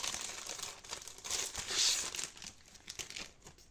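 Crinkly plastic wrapping on a small package rustles and tears in quick, irregular bursts as it is pulled open, close and fairly quiet, with no talking.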